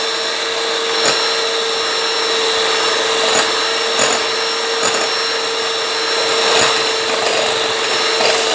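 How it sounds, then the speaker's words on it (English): An electric mixer whirs steadily while beating yogurt and sugar for a cake batter, with a constant motor hum and occasional clicks of the beaters against the bowl. "Mix them properly, keep mixing until it froth up good"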